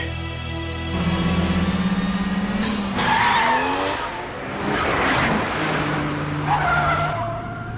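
A tuned car with a freshly installed engine drives in the Wangan Midnight video game, its engine drone rising and falling as the tires skid and squeal in long, loud stretches.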